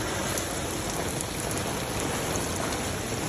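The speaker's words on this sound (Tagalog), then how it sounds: "Grabe, ang lakas ng ulan." Heavy rain falls in Japan, a steady, dense, loud hiss of drops hammering a surface that stays constant throughout, with no voices.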